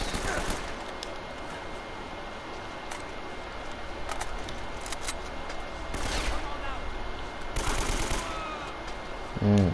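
Scattered gunshots and short automatic bursts in Uncharted: Drake's Fortune, moderately loud amid game ambience, with someone talking over the shooting.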